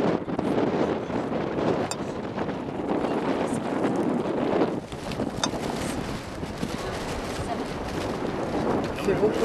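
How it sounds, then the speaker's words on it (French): Strong wind buffets the microphone in a steady, roaring rush near the Uzbek border in Kazakhstan, with continuous broadband gusting throughout and faint speech beneath. "Il fait beaucoup de vent."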